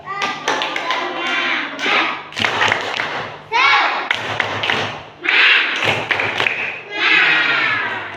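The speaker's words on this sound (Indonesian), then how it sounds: "Ayo tepuk semangat coba" Schoolchildren in a classroom perform a rhythmic clapping chant together, bursts of patterned claps and sung or shouted syllables coming in short phrases separated by brief gaps.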